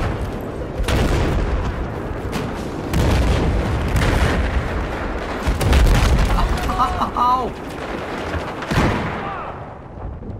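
Tank gunfire and explosions in Battlefield 4 on the Shanghai map, a run of heavy booms and bursts with rumbling tails, loud and repeated, while a voice speaks over the battle.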